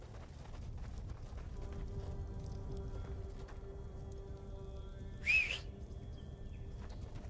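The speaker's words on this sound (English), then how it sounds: "that's such a weak fucking whistle" A short, thin whistle calling a horse in Tainted Grail: Fall of Avalon rises briefly over a steady background rumble of game ambience, standing out once near the end.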